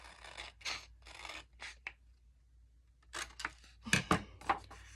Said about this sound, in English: I know I'm using my scissors